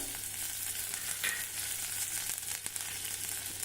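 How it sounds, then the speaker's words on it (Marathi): Mustard seeds crackle in hot oil, a steady bright, crackling hiss with a brief spattering burst partway through, no voices. "मोहरी तळतळली की जिरे चवीनुसार हिरव्या मिरचीचे तुकडे"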